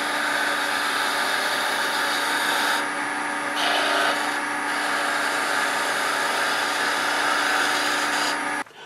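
A skew chisel is held against a running bench grinder, a continuous steady whine and hiss of steel on the wheel, loud and close, with the tone briefly shifting as the tool moves, then cutting off at the end.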